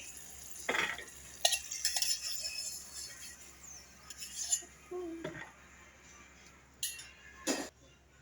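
Carrot halwa with almonds being stirred in a pan, a quiet scrape and soft clinks of a spoon against metal at irregular moments over a faint background hum.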